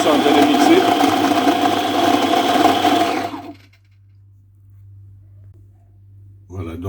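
A blender mixes lemons and ginger with a loud, steady motorized whir for about three seconds, then cuts off, leaving a low hum until a short burst of sound at the end.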